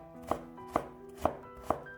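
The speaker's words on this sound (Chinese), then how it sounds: "再准备一根去皮的胡萝卜，先切成薄片，再改刀切成细丝" A knife cuts a peeled carrot into thin strips on a board, four crisp evenly spaced chops, close and clear.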